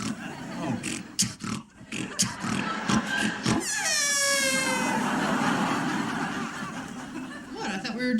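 A man imitates an elephant with his voice, pushing out a long, rising trumpet-like blare after some snickering and chuckling nearby.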